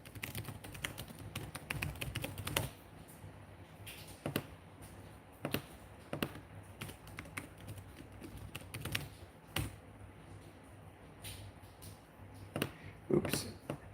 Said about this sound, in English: I'm just here inviting some people, typing on my computer